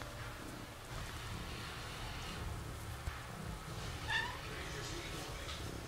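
A kitten gives one short, clear meow partway through, standing out over a steady hissing background that sounds like rain or room noise.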